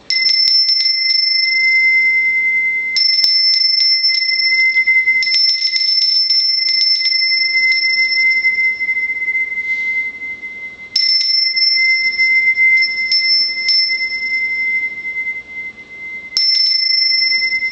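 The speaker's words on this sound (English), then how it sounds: "when you do the bell, it will change just depending on where you're at in the room" A handheld bell rung for space cleansing gives a long, sustained bright ring, struck several times so fresh rings overlap the fading tone, loud and close with no talk.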